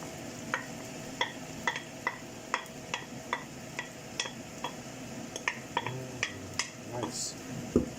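Vegetables added to a still-hot pan with the heat off while making chicken with rice, a steady series of light clinks and scrapes of a utensil over faint sizzling, close and quiet.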